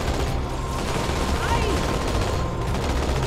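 Rapid gunfire during a drive-by shooting in the video game Halo 2 Anniversary, a continuous dense clatter of shots over steady engine and battle noise, loud throughout.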